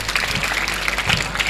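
A ceremony audience claps for an honoree, a brief burst of dense, steady applause from a crowd filling the room.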